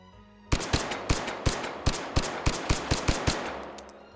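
Single semi-automatic shots from a gun in the VR shooter Hot Dogs, Horseshoes & Hand Grenades ring out one by one in a steady rhythm, about a dozen sharp, loud cracks with short decays between them.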